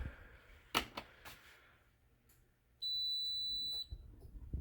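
A single electronic beep from a Bosch dishwasher, high and steady, sounds for about a second over a quiet room with faint background noise.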